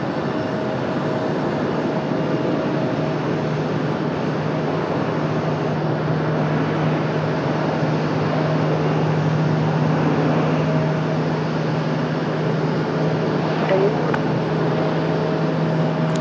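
A jet airliner powers up for takeoff on runway 14 at Raleigh-Durham International Airport, a steady broad engine roar with a low hum that holds loud and even from start to finish.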